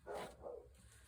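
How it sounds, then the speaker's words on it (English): A household dog barks a couple of times in the background indoors, faint and muffled at a distance, with no talk over it. "There goes the dog."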